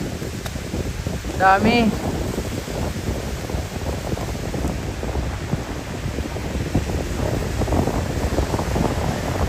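Strong wind blows across Dolomite Beach by a rock garden, battering the microphone with a loud, continuous rumbling gust. A voice speaks briefly near the start.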